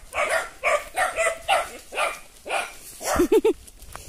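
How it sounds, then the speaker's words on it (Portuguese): A dog barks repeatedly in a steady rhythm, close by and loud, ending with a few quick higher-pitched yelps. "Aqui tem cachorro valente"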